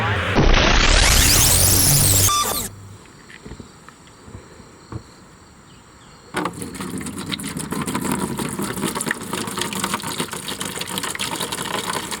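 A Yamaha jet boat engine being run for winterization with antifreeze: a loud whirring burst, a quieter lull, then the motor catches and settles into a steady, buzzing idle, with people talking intermittently.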